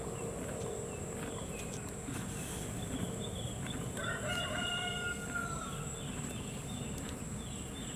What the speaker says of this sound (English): I'm examining these chickens.